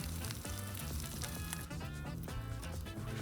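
Bacon strips sizzle and crackle loudly and continuously on a hot Blackstone 22-inch griddle as they cook quickly and curl up, with no voices over the frying.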